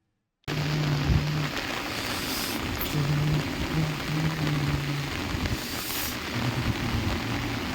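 Heavy downpour in Bhopal, a dense steady hiss of rain that starts suddenly and continues loud and unbroken, with faint low tones now and then underneath.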